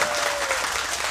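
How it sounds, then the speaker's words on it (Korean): Loud, continuous audience applause, many hands clapping at once in a full room. "큰 박수 부탁드리겠습니다"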